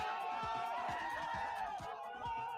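A crowd sound effect evoking a boxing ring gives a steady, fairly faint murmur of many cheering voices, continuous with no distinct peaks.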